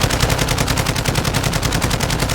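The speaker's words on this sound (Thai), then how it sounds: "ยิงอะไรวะยิงศพเหรอ" Dense, rapid automatic gunfire from the video game Call of Duty Warzone 2.0 in DMZ mode, a steady loud rattle of shots running without pause throughout.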